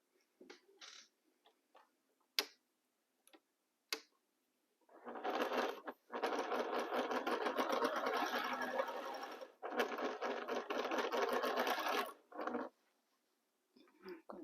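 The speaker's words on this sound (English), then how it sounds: "I align my fabrics here and start sewing." A sewing machine stitches fabric in close, quiet bursts of rapid whirring, separated by short pauses and small clicks and taps.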